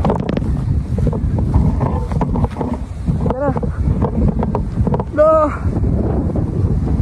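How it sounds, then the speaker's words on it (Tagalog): Strong monsoon wind buffets the microphone with a constant, loud roar during kite flying, while a person talks over it. "Tingnan nyo yung hangin, oh. Grabe lakas."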